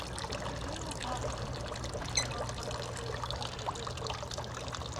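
Water pours steadily from a public bottle refill fountain on a city street in Sofia, a continuous trickling stream over low traffic-like rumble, with a brief clink partway through.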